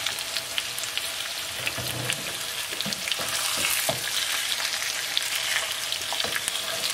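Lemon and herb tuna steaks sear in a hot pan with a steady crackling sizzle, punctuated by soft clicks and shifts as the fish is turned, and no voices.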